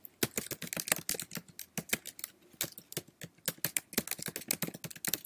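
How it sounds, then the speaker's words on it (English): Rapid, irregular keystrokes on a computer keyboard sound up close and crisp as setup details are typed in, with steady clicking and no voices. "I'm just typing in what they gave us in the directions."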